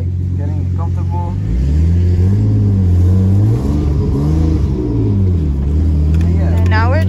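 A manual car engine hums and rises in pitch as the clutch is let out and the car pulls away, a loud, close drone that swells and dips over several seconds with a person talking over it.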